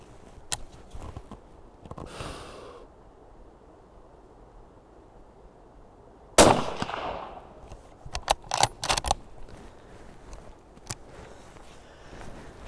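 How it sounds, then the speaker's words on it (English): Sniper rifle fired off a bipod from a natural position at a tree barrier outdoors: one sharp, loud shot stands out midway, with a few other cracks and clicks scattered around it and quiet between. "I'm going to shoot nice and simple off the bipod here"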